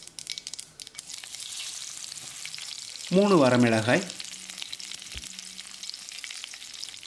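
Hot oil sizzles and crackles steadily throughout as mustard seeds and curry leaves fry, while a voice speaks briefly in Tamil in the middle.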